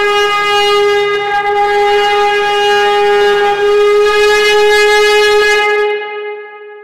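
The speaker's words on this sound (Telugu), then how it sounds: "వల్లెవాటి చాటు నుండి శంఖం తీసి బయ్యమని శబ్దం వచ్చేలా ఊదింది" A conch shell blown as a radio drama sound effect gives a loud, sustained, steady blaring tone for several seconds, rich in overtones, that fades out at the end with no other sound.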